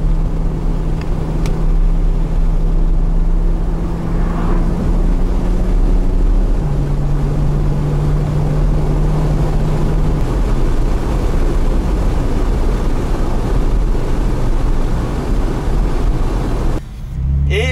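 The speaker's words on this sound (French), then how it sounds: "vous avez beaucoup trop de vent dans l'habitacle" Loud, constant wind roar buffets the open-top cabin of a Porsche 911 (991.2) Targa 4 GTS, with a low engine drone and shifting tones underneath; no one speaks.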